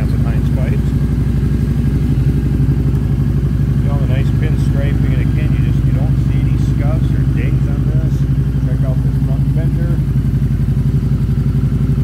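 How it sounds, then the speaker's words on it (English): A 2006 Harley-Davidson Screamin' Eagle V-ROD motorcycle engine runs steadily at close range, a loud continuous low rumble with no pauses, while a voice talks intermittently over it. "I'm going to go ahead and fire this up so you can hear it run a second."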